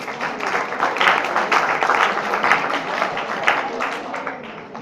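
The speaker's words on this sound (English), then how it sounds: "Clap hands for him." A class of students claps for a classmate, a steady burst of dense applause from many hands in a room lasting several seconds without pause.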